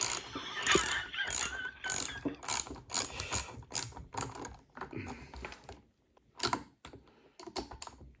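Nuts are tightened on the carburetor of a Stihl KM55R kombi engine with a ratchet, heard as rapid, close clicking bursts in uneven runs with brief pauses between them, and no talking.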